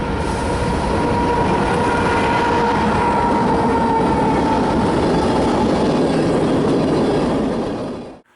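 A Norfolk Southern freight train led by locomotive 8103 rumbles past close by, a loud continuous roar with rolling clatter that holds steady and then cuts off abruptly.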